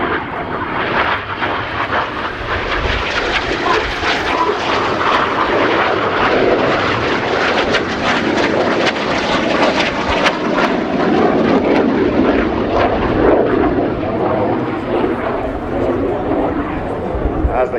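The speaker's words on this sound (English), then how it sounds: "The aircraft rolling towards each other twice in the double rolls." Red Arrows jet aircraft performing double rolls at the RIAT 2019 flying display pass with a loud, sustained roar that swells and fades gradually, while a commentator talks over it.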